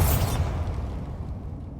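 A Bombarda spell explosion in Hogwarts Legacy, a heavy low boom that bursts at once and rolls away in a decaying rumble over about two seconds.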